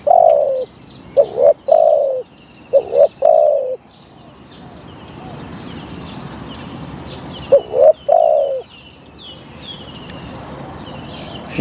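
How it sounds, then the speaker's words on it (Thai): Soft, throaty spotted dove coos in short phrased bursts, repeated a few times, with small birds chirping in the background. "นกเขาใหญ่ครับ"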